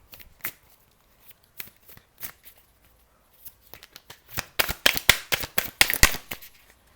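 Tarot cards being shuffled close up: sparse soft flicks and taps at first, then a dense, louder run of riffling snaps toward the end, with no speech.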